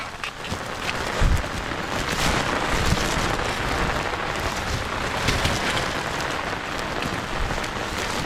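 Steady rain falls outdoors during a harvest, a constant broadband hiss with occasional louder drops and wind buffeting the microphone.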